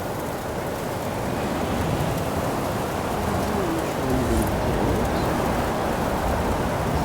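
Heavy rain storm in Forza Horizon 5 during a drive in a basic small SUV: a steady, dense hiss of rainfall holds at an even level throughout, with no voices.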